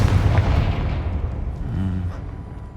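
The Confringo spell in Hogwarts Legacy sets off a booming explosion, a deep rumbling blast at the start that slowly fades out over a couple of seconds.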